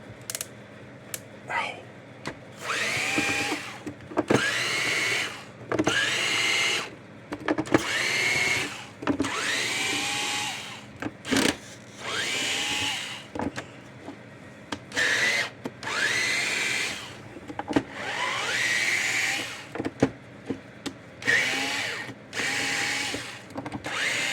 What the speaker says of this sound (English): So we're going to take all the screws out.